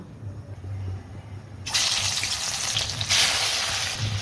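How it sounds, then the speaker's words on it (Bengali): Pieces of desi chicken, including leg pieces, hit hot oil in a pan and burst into a loud, dense sizzle that starts suddenly partway through and continues steadily, close up, after a quiet low hum. "আমি লাল করে আগে মাংসকে ভেজে নিব।"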